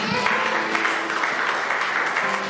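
A church congregation breaks into steady, sustained applause that fills the room, loud and close, with no break in the clapping.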